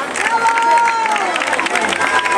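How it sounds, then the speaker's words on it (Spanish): Spectators at a memorial road race applauding and cheering as the first female runner finishes, a loud, sustained stretch of clapping with shouts and a voice calling out over the crowd. "Un aplauso para ella. ¡Un fuerte aplauso!"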